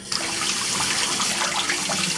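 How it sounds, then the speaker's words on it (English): Cold tap water runs steadily over beef being rinsed of baking soda for Mongolian beef, a continuous close splashing stream in a kitchen sink with no talking. "Now we have to rinse out the baking soda thoroughly from the beef. I'm using cold water."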